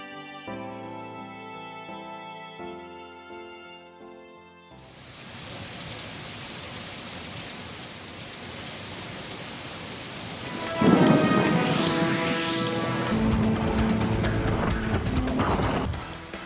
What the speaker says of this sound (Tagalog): Bagyong Ursula napanatili ang lakas habang tinatahak ang direksyon patungong probinsya ng Mindoro